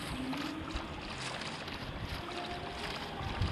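A boat gliding across a leaf-choked pond in Minecraft, a steady low rushing wash of water, fairly quiet and unbroken from start to finish.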